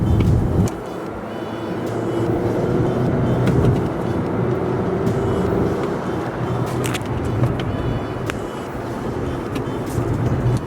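A turbocharged car running on 93 octane pulls hard under acceleration with downshifts, its engine a loud, steady roar close by for about ten seconds, no talking.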